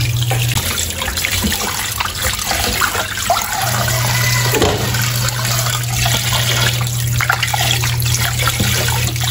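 Boiled water from cooking beef testicles is poured away into a sink, followed by rinsing under a running tap: a steady, loud rush of water with splashing and trickling throughout, no voices.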